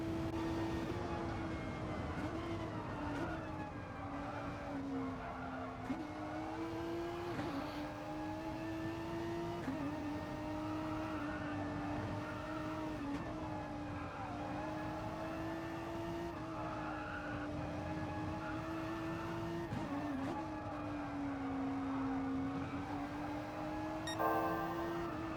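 Engine of a race car in an endurance championship sim racing game, heard onboard just after a pit stop: a loud, steady high-revving drone with rising and falling pitch through gear changes, continuous and alone without talk.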